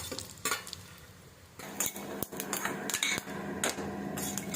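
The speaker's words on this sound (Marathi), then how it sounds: "आता त्याच तुपामध्ये आपण शेंगदाणे परतून घेऊया" Peanuts being roasted in ghee in a pan on low heat for sweet laddus, a soft sizzle under repeated scraping and clinking of a spoon stirring against the pan, close and moderately quiet, no talk.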